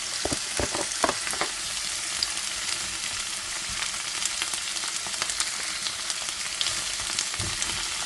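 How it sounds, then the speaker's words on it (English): Shredded carrots frying in hot oil, a close, steady sizzle with crackles and pops, loudest at the start, with occasional stirring. "So with that frying, I'm going to add my carrots."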